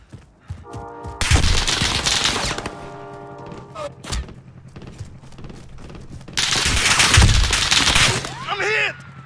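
Call of Duty Warzone gunfire crackles in two long, dense bursts of rapid shots, one early and one late, with lighter sporadic pops and game effects between them, loud and close.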